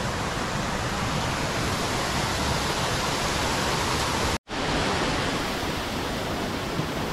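A small waterfall pours down from above in a constant broad rush of falling water, loud and close, with a split-second dropout partway through.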